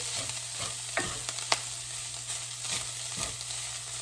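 Meat browning in a frying pan for shepherd's pie, a steady close sizzle with occasional scrapes and stirs of a utensil against the pan.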